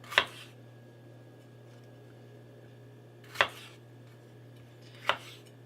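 Onion being chopped for chili, three separate sharp knife strikes on a cutting board spaced well apart, with quiet pauses between them.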